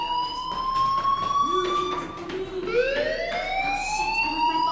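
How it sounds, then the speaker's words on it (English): A school fire alarm blares in the game Life is Strange, a loud continuous electronic siren tone that holds steady and then jumps to a higher rising pitch midway, ringing on alone. "do you hear that fire alarm?"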